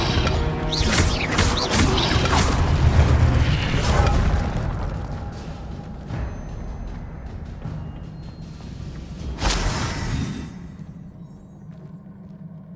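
An Incendio fire spell bursts out in Hogwarts Legacy, a whooshing crackle of flame with impact thuds, loud early then fading, followed by a second sharp burst later.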